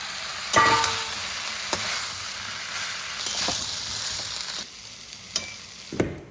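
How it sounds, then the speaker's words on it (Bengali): Fried potatoes and soya chunks are tipped into sizzling spice masala, giving a steady crackling fry punctuated by several sharp spoon knocks and scrapes. "মশলা তো কষানো হয়ে গেল এবার ভেজে রাখা আলু সয়াবিন দিয়ে দেবো"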